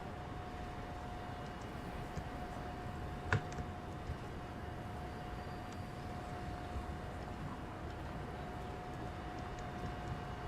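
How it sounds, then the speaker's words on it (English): A video-game express train heading to Gladstone rumbles past a platform, a long, even low roar with one sharp click partway through, with no talking. "So this would be the express train, I assume."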